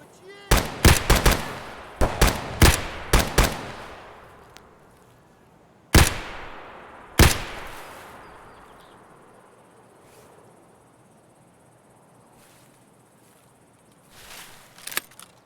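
Gunfire in Escape From Tarkov: a rapid burst of loud close shots, then a pair of separate sharp single shots with ringing decay, and a faint scattering of distant shots later.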